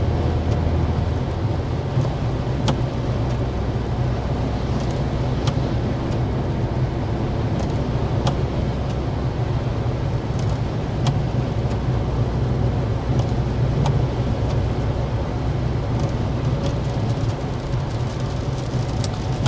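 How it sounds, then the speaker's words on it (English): Constant road roar inside a moving 2024 Hyundai Kona Limited with rain hissing against it, steady and loud, with occasional sharp ticks. "give you guys the best sound sample we can with the rain going on"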